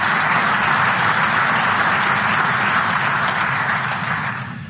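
A conference hall audience gives sustained, dense applause that stays steady throughout and fades slightly at the end, with no speech over it.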